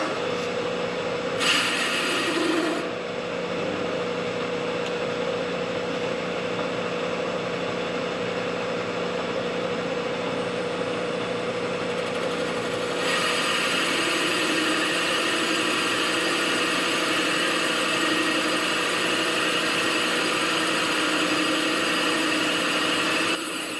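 Bridgeport milling machine boring with an indexable boring bar, a steady loud motor hum and drone lasting throughout with no talk, its tone shifting partway as the cut continues.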